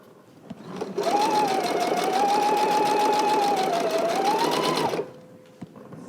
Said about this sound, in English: now we go back to the sewing machine and we fold over this stitch and we stitch directly on top of our previous stitch